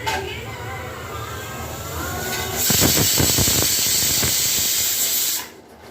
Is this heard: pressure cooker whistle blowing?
yes